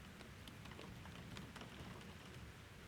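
Faint, steady rain during a storm, a dense low hiss with scattered drop impacts and a muffled rumbling underneath.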